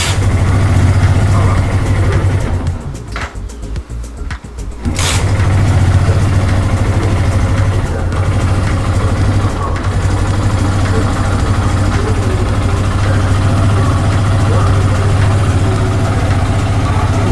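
A motorcycle nicknamed the Red Princess idles steadily with its choke on, a close, continuous low rumble that dips briefly for a couple of seconds before settling back to an even idle.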